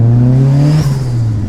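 A turbocharged car engine tuned to spit flames from the exhaust revs hard, a loud steady tone climbing slightly before a sharp break and a rougher, lower idle-like drone.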